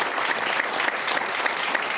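A studio audience on a French talk show applauds steadily and warmly throughout, a dense near wash of many hands with no break.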